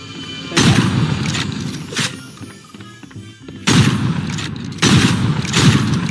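Booming video game gunfire in loud bursts separated by brief lulls, heavy thumping shots close and forceful with no talking.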